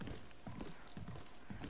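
Horse hooves clip-clop in the video game God of War, a quiet, steady run of soft rhythmic hoof beats in the background.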